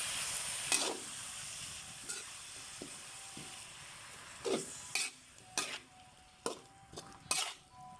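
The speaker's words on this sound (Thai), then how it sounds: "ตอนนี้นะคะเราก็ได้ผัดหน่อไม้แล้วนะคะ" Bamboo shoots with a little pork are stir-fried in a pan for a Thai bamboo shoot salad, with a soft background sizzle broken by repeated scraping and clanking strokes of a spatula against the pan, spaced irregularly.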